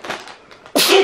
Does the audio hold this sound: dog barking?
no